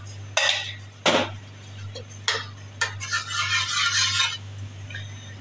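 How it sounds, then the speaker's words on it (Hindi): A spoon of homemade desi ghee goes into a pan with two sharp metallic clinks, then a soft bubbling sizzle and light utensil scraping, close and without talk. "1 चम्मच हम डालेंगे देसी घी का।"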